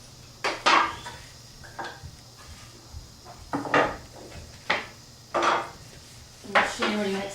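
A piece of wood being cut in a carpentry shop, heard as a string of irregular close knocks and short scraping strokes with quiet gaps between them.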